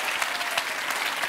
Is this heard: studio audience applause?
yes